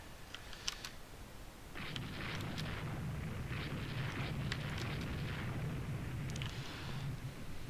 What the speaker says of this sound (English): Looks like big booms happen.